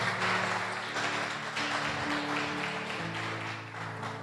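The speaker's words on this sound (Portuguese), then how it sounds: "Vamos aplaudir ao Senhor." A church congregation applauds the Lord during a worship service: a dense, steady wash of many hands clapping that carries on for several seconds, heard from a moderate distance, with faint sustained tones underneath, then slowly thinning toward the end.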